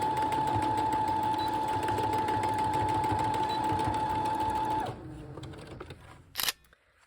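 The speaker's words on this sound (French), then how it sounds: "on va simplement venir coudre ensemble avec quelques petits allers-retours nos deux élastiques ensemble" A sewing machine stitches two elastic strips together with short back-and-forth passes for a zero-waste bowl cover. Its steady, loud motor hum runs for about five seconds, then drops away, and a brief sharp clatter follows near the end.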